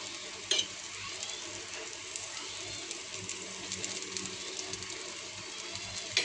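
An aloo paratha fries in ghee on a pan, a close, steady sizzle and crackle with a few sharp ticks of a spatula or utensil, with no talking.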